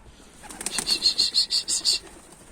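Rapid, rhythmic wing flaps from pigeons taking off nearby, a burst of about eight beats lasting a second or so.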